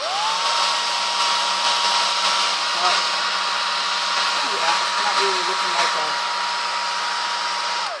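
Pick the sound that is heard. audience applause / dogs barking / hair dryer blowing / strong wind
hair dryer blowing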